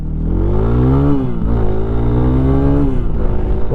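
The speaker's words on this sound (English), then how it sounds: "I'm gonna full throttle here" A Lifan KPX 250 dual-sport motorcycle at full throttle, its engine droning loud and close with steady rising pitch, a brief shift-like dip, then climbing again.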